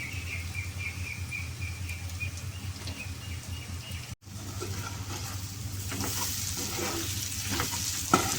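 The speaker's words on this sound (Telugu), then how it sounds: "మొత్తం కలిసేటట్టు ఒకసారి తిప్పుకుందామండి." Boiled crab meat stir-fried with onions in hot oil crackles steadily up close; after a brief cut, the sizzling returns louder with spatula scrapes and tossing.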